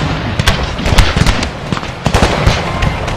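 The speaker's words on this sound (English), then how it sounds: "So units are all firing." Massed rifle fire from infantry units in the strategy game Empire: Total War, set in the American Civil War: dense, continuous crackling volleys with overlapping loud cracks, a steady barrage with no talking.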